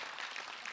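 Audience applause from a seated crowd at a Buddhist monk's question-and-answer talk, a brief steady patter of clapping hands at moderate distance with no voices over it.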